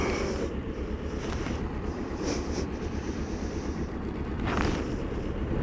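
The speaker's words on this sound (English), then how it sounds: "Another storm brewing, I think." Heavy wind buffets a microphone on a motorcycle ride as a storm approaches, making a constant loud low roar and rumble with occasional gusty surges.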